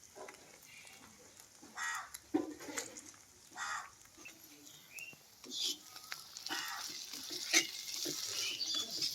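Eggs frying in a pan with browned bitter gourd pieces, onions and green chillies give a soft, close sizzle, broken by short bursts of stirring and scraping.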